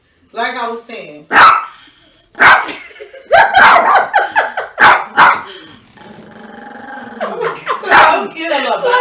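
A chihuahua barks repeatedly in loud, close, yappy bursts, some in quick clusters, with a person talking over and between the barks.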